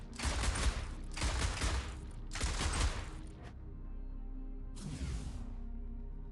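Gunfire from the Ork Warlords video game: three dense, rapid bursts follow one another closely, then a pause and a shorter final burst, all loud and harsh with no talk.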